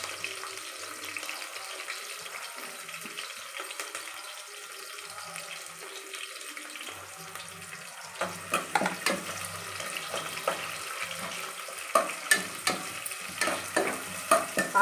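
Sliced onions sizzle steadily in hot oil for a mutton masala curry, a continuous crackling fry with a run of sharper stirring scrapes and knocks growing louder toward the end; no one speaks.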